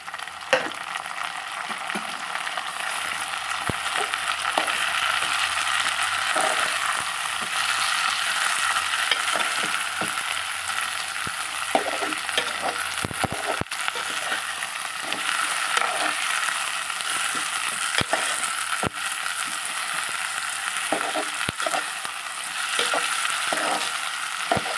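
Half a kilo of tomatoes frying in a pan for a prawn and raw mango tamarind curry, a steady loud sizzle running throughout with frequent scraping stirs, no voices.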